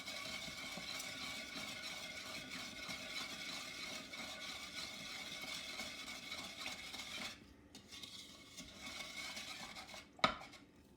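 A utensil stirs steadily in a bowl of sugar mixture for cinnamon buns, making a soft, continuous scraping and swishing that is quiet and close, with one sharp clink near the end.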